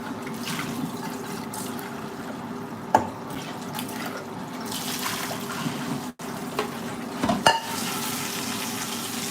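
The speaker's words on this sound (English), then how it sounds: "So I'm just gonna rinse off the broccoli." Tap water runs steadily into a pot while broccoli is rinsed, a continuous hiss with a few clanks and bumps of handling, close by and with no talking.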